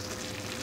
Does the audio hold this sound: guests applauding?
no